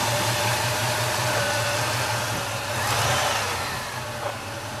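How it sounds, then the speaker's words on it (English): A 1979 Pontiac Trans Am with a 400 four-speed runs steadily while its air-conditioning compressor kicks on, adding a broad whooshing surge to the continuous engine hum, close and loud with no talking. "Compressor just kicked on."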